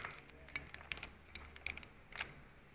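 Small screws are driven into a Dell Inspiron 1525 laptop during repair for overheating: faint, scattered clicks and ratchety ticks close by, in a handful of brief bursts with quiet gaps between them.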